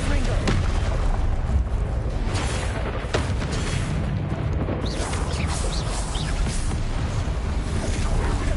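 A Confringo fire-blast spell in Hogwarts Legacy goes off amid a dense, loud wash of booming combat noise that fills the whole stretch without letup.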